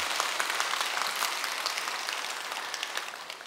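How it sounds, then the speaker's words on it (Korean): A Buddhist congregation at a Jogyesa temple dharma service gives dense, even applause of many hands, close and full, sustained throughout without speech. "자신들에게 박수."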